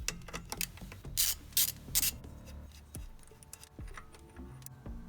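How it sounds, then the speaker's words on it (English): Ratchet wrench loosening a 12mm bolt on an AC compressor bracket, with clicking ratchet strokes and short metallic scrapes and rattles close up in a quiet space. "Okay, pull that bolt out, it's 12mm."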